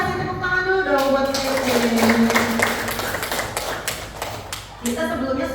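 A class of schoolchildren applauding in a classroom during a plant reproduction lesson, a burst of fairly loud, rapid clapping lasting a few seconds, with a teacher's voice talking over it.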